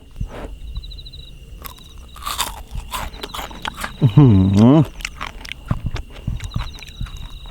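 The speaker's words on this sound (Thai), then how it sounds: "ปลาทอดนะกรอบแน่นอน" Crispy fried fish is crunched and chewed close to the mic in irregular bites, with several sharp crunches. A loud, wavering whine cuts in briefly partway through. The setting is an outdoor camp by a reservoir.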